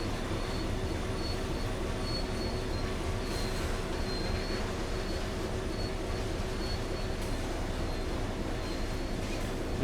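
A DB Class 66 diesel locomotive in EWS livery passes in a railway video game, a steady, loud rumble of engine and rolling wheels with faint high squeals, continuous throughout with no talk.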